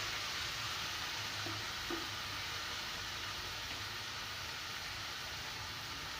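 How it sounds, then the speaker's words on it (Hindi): Ridge gourd hitting hot oil and fried masala in a pan, a steady, even sizzle and frying hiss with no voices over it. "और अब इसमें मैं तुरैया डाल दूँगी"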